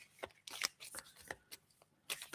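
Tarot cards being shuffled for a reading, a close series of quick riffling bursts and soft slaps in an irregular rhythm, fairly quiet with no talking.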